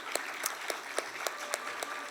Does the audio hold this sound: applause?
yes